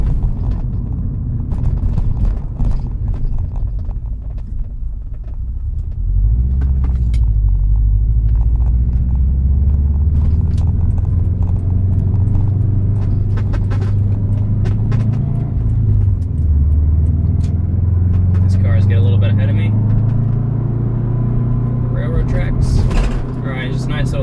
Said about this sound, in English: I'm just going to give it a little acceleration, let you hear the SPT catback from inside the cabin